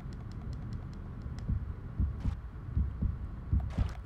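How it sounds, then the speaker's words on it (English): Heartbeat sound effect from Uncharted 3: Drake's Deception during an underwater swimming scene: a steady, muffled double-thump pulse over a low rumbling hum, with faint clicks above. "Oh, there's a heartbeat."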